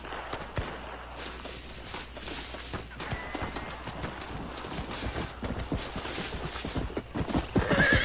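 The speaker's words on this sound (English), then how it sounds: "O cavalo vem doidão." A horse in the video game Red Dead Redemption gallops with rapid, continuous hoofbeats and neighs now and then. The hooves are moderately close and grow louder toward the end.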